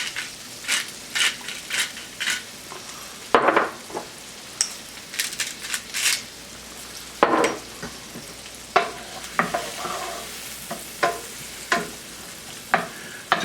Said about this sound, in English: We're just going to saute these until they get soft.